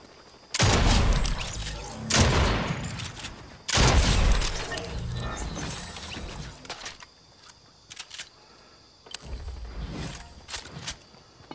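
Loud bursts of automatic gunfire in a shooter video game with bots, several heavy volleys crackling close by, then a sustained rattle and a later burst.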